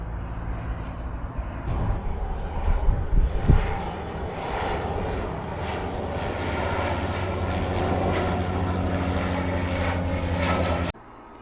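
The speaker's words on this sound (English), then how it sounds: "It's actually quite a busy airport." Steady engine drone of aircraft at a busy airport, a broad continuous roar holding for about eleven seconds before cutting off abruptly, with a brief rumbling swell early on and no speech.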